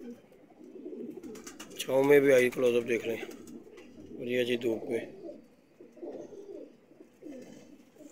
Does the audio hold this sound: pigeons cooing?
yes